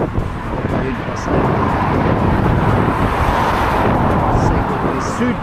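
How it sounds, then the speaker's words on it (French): Steady broadband road noise from cars passing along a roadside route by the Loire, heard from a bicycle, loud and continuous with swells as vehicles go by. "ça fait un peu de bruit des voitures."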